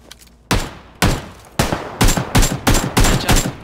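Gunfire in the video game PUBG Lite: three loud, separate shots about half a second apart, then a quicker run of sharp, closely spaced shots that continues to the end.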